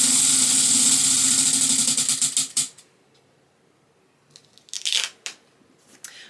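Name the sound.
prize wheel spinning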